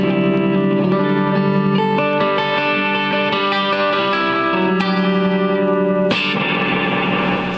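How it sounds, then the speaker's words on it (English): Electric guitar chords played through an Earthquaker Devices Ghost Echo reverb pedal, a dark, springy reverb, sustained, processed tones with a long wash and a fresh strum near the end, loud and continuous with no talk. "One side runs into my Earthquaker Devices Ghost Echo, which has a"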